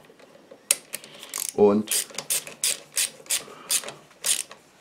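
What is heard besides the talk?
ratchet tightening a scooter rear drum brake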